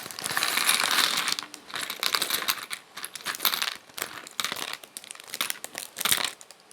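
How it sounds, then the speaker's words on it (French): Plastic bag of LEGO Ninjago pieces being opened and handled up close, with repeated bursts of crinkling and rustling and small pieces rattling, fairly quiet. "on va ouvrir le premier sachet"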